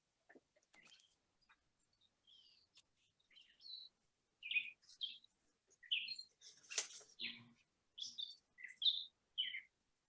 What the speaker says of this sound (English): the birds are really singing outside my window this morning